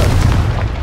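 A Confringo blasting spell explodes in the Hogwarts Legacy video game, one short, loud, booming burst heard close and alone.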